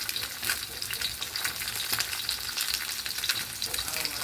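Chili powder frying in hot oil in a pan, a dense, steady sizzle with crackling bursts, close and continuous with no voices.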